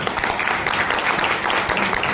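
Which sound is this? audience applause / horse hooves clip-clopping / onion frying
audience applause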